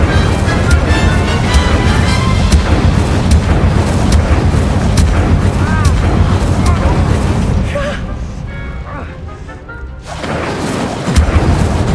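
Incendio fire spells cast over and over in a Hogwarts Legacy duel give loud roaring bursts and booms, with the din dropping briefly near the end before surging back.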